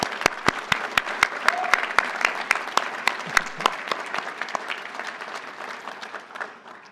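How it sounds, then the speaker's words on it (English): Audience applause at an economics graduation ceremony, a dense crowd of clapping hands with sharper individual claps standing out, steady at first and gradually thinning toward the end. "Let's all give them a round of applause."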